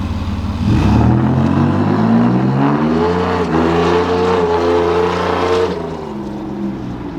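A 2019 Ford F-150 pickup with a deleted and tuned 3.0 Powerstroke diesel launches hard, its engine revving loudly and climbing through steady harmonic pitch rises for several seconds before easing off near the end.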